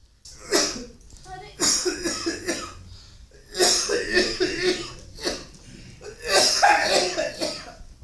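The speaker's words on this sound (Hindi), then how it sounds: "अरे तुम्हारी खांसी ठीक नहीं है," Several bursts of harsh coughing in separate fits, close and fairly loud, with short pauses between them.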